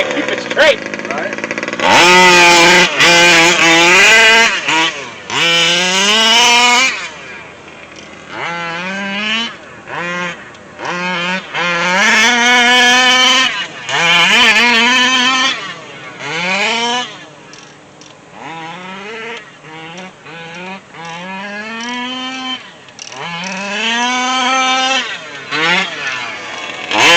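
A King Motor Baja 5B RC car with a 38cc petrol engine and an Olimat pipe drives around. Its raspy two-stroke note rises and falls through repeated throttle blips and sweeping revs, sometimes near and sometimes fading back.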